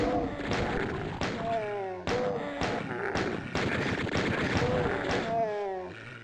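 Gunfire at imps in the classic shooter DOOM (TNT: Evilution, MAP09 Stronghold), a string of sharp shots at uneven intervals cutting through steady talking.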